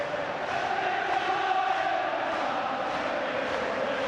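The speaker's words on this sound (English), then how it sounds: "And now the Celtic crowd are taking over in the background." A Celtic football crowd roars and cheers after a Henrik Larsson goal in a 2002–2003 European match, a dense, sustained wall of distant stadium noise with no distinct voices standing out.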